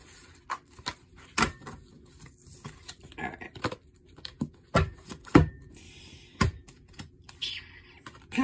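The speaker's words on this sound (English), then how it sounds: "I'm going to shuffle them again." A deck of cards is shuffled by hand, with a run of crisp, irregular clicks and riffling snaps of varying loudness close by.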